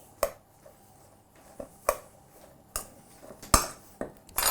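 Spoon clinks and scrapes against a bowl while sesame oil and soy sauce are mixed in it, giving a few sharp, separate knocks spaced about a second apart over quiet background.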